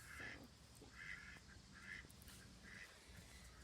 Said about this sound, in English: it's a mess out here because there's ducks. You probably hear them in the background